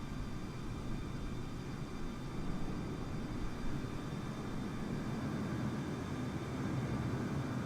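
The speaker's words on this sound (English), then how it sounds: "Wow, very big aircraft." A big aircraft in Microsoft Flight Simulator, around an A320neo at Zurich, gives off a steady broad engine roar with faint high tonal whine, constant and moderately distant.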